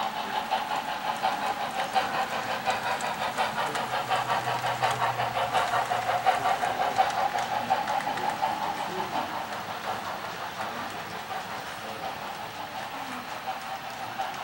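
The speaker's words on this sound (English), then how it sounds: "Now train has come on around here." A model train runs along a layout with a continuous rumbling whir and a faint rhythmic clicking of wheels on track, steady and close.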